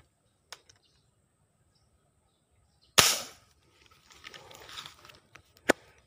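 Spear gun fired while fish hunting underwater: a single sharp loud crack with a short decaying tail, surrounded by faint clicks and a few small taps.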